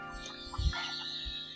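Chickens clucking during feeding, a few short close clucks over a steady background hum.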